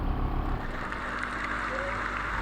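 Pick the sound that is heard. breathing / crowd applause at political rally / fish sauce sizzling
crowd applause at political rally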